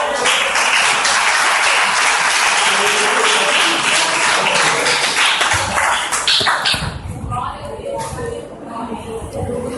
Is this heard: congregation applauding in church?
yes